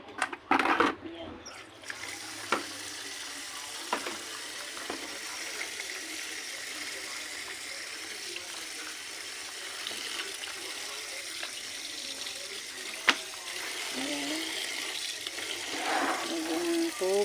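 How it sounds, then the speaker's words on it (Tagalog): Water streams into a container for cleaning, a steady pouring rush that continues at low level and grows slightly fuller toward the end, with a few clunks of handling early on. "Lagyan ko muna siya ng tubig."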